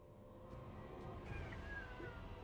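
A house cat meows briefly over a steady low background hum, a short faint cry near the middle with no talking at that moment.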